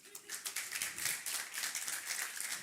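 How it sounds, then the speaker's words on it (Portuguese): Women in a church congregation clap together, a soft, fairly steady patter of many hands heard faintly at a distance with little else underneath. "Mulherada, dá uma salva de palmas aí"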